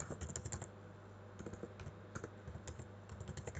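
Rapid keystrokes on a computer keyboard, quick bursts of clicking with short pauses between, close and fairly quiet.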